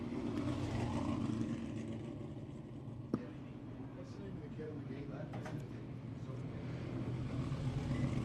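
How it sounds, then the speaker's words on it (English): Dirt track race cars roar down the front stretch at BAPS Motor Speedway in York Haven, Pennsylvania, a continuous distant engine drone with a brief sharp crack partway through, beneath a loudspeaker announcer talking. "Next wave of cars moving down the front stretch."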